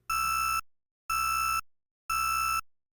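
A loud, piercing smoke alarm beeps three times in a steady rhythm, each tone lasting about half a second with short silences between.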